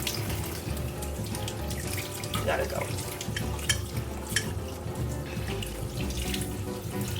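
Lukewarm tap water runs steadily into a sink while houseplants are cleaned and old growth is pulled away, a continuous near splashing flow with brief rustles and a short spoken phrase over it.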